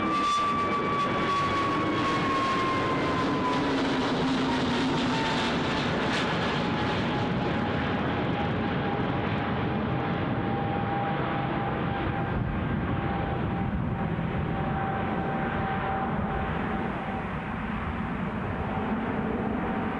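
An EasyJet airliner departs Newcastle International Airport in misty weather, its engines a steady, loud roar with a gliding whine that slowly drops in pitch as it climbs away, filling the whole stretch without talk.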